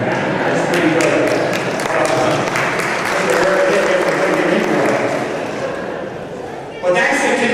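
Audience at a fire department promotion ceremony in Elizabeth applauds through an indoor hall, a sustained, moderately loud patter of clapping with murmuring voices underneath, fading slightly before a brief renewed swell at the end.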